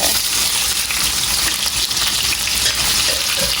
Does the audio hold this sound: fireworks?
no